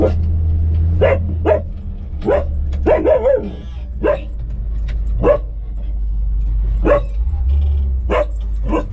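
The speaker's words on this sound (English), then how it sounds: "That's a Doberman." A Doberman barks repeatedly in sharp, loud bursts close by, with a car engine idling low underneath and a brief whimper midway.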